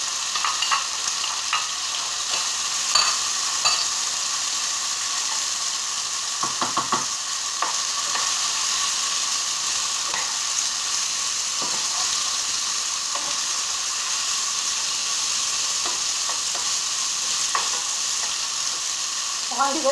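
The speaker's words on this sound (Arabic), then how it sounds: "ونخليهم يتقلاو" Chicken wings and ingredients for paella fry in a pan, a dense, steady sizzle with scattered stirring scrapes and clinks throughout.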